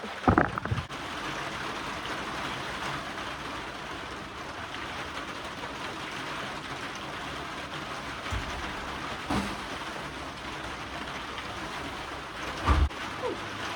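Steady rain patters on a greenhouse roof overhead, a constant dense hiss with a few louder knocks and thumps scattered through.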